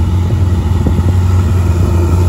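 A Ferrari 488 GTB V8 with a sport exhaust, driven in a racing video game, holds a deep, continuous, loud engine drone at a steady pitch.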